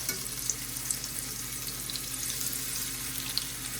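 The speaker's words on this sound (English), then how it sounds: "Oh, listen to that sizzle." Pork belly sizzling in a frying pan, a steady crackling hiss with occasional louder pops, close and fairly quiet, no voices.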